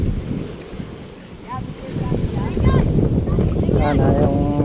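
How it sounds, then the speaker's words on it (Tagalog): Strong wind buffeting the microphone on choppy water during a fishing outing, a steady rough roar that grows louder midway, with people talking briefly over it. "Kaya lang malakas ang hangin,"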